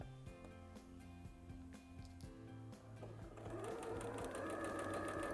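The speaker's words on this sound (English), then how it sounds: "put your presser foot down, and then we're going to just get to sewing" A sewing machine runs steadily, stitching a fabric face mask with a 1/4 inch seam allowance, its motor hum and needle rhythm continuous and close, growing slightly louder and brighter midway with no talking.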